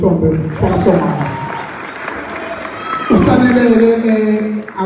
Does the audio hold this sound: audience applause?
yes